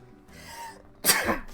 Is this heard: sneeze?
yes